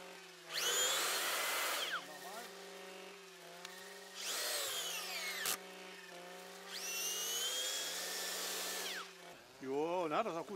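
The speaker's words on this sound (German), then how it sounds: "Dann kommt ein Bohrer zum Einsatz, um das Pflanzen der Setzlinge zu erleichtern." A motorized earth auger whines in three long bursts, rising and falling in pitch as it bites into the soil, with a steady engine hum between.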